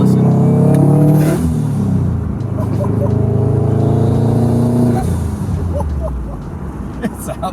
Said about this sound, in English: This is probably hands down one of the best sounding cars around, with the wastegate, blow off valve.